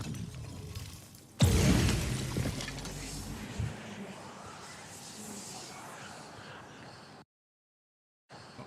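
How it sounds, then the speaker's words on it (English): Icefall Mantle activating in a video game: a sharp shattering burst opens, then a long icy hiss and crackle slowly fades. Silence follows at the end. "this is the sound of Icefall Mantle being activated"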